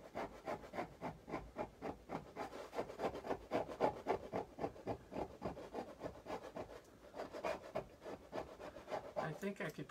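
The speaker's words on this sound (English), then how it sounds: "I think I could probably spend a lot of time scraping on that" A scraper rasps repeatedly across a painted surface where the paint is balling up rather than lifting in sheets, a steady, close rhythm of rough strokes continuing throughout.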